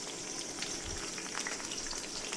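Slices of pointed gourd fry in oil with a faint, continuous crackling sizzle, even and unbroken throughout, with no voices.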